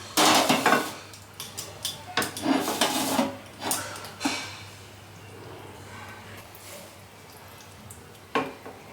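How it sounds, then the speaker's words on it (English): Metal utensils clank and scrape against pots as cooked food is shifted into a cooking container in a kitchen, a run of close irregular clatters that thin out toward the end. "Now we're going to transfer it to our cooking container."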